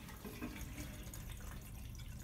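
Water running steadily down a shared main drain in a Tokyo building after a faucet is turned on, a continuous close rushing wash with no talk.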